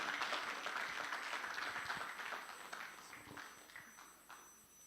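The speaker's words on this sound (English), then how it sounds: "Please, a round of applause for him, Akim Lawa." Faint audience applause for a speaker being introduced at a fintech forum in Freetown, Sierra Leone: scattered clapping from a hall that thins out and fades over a few seconds.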